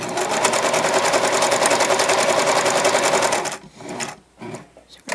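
A sewing machine stitching fabric toward a corner runs in a fast, even mechanical chatter for about three and a half seconds, then stops, leaving a few soft handling clicks and rustles as the fabric is turned.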